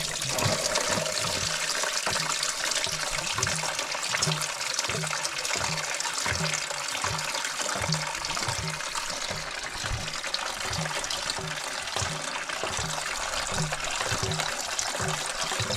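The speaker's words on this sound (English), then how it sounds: "I'm going to take the coolant hose off now" Car coolant pours from a removed coolant hose in a steady gushing, trickling stream, fairly loud and continuous with a faint rhythmic pulse underneath.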